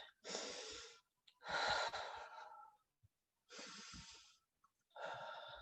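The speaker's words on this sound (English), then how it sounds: "I want you to take 2 big, deep breaths." Deep breathing during a stretching routine: two long inhalations alternate with two long exhalations, each a close, airy rush of breath with short pauses between them.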